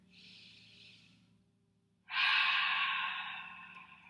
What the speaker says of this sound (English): Taking deep, full breaths here.